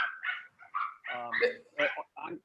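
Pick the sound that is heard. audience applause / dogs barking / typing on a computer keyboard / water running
dogs barking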